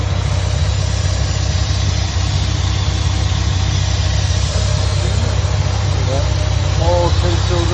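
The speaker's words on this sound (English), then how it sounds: "All 10 cylinders. Beautiful V10." Dodge Ram SRT-10 pickup with its V10 engine idling under an open hood, a steady loud low rumble throughout with voices talking over it near the end.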